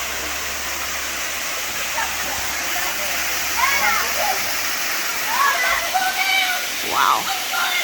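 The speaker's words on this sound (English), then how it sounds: "There's the waterfall." Honey Run waterfall near Howard, Ohio, flowing with a steady broadband rush of falling water over rocks, fairly close and continuous, while people talk over it at times.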